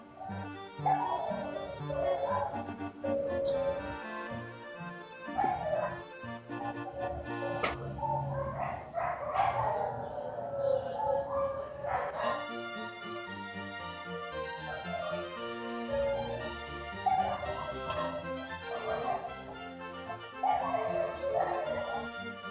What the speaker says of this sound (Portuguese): Agora você ouviu os cachorros?